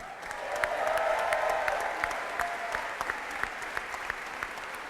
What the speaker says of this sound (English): for the mayor of St. Louis, who, by the way, deserves an equal applause, Lyta Cruson.